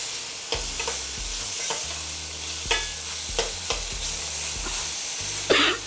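Bell pepper with ginger garlic paste sizzles softly in oil while a spoon stirs it in a handful of distinct scraping strokes, ending with one louder scrape. A low steady hum sits underneath, close and without talk.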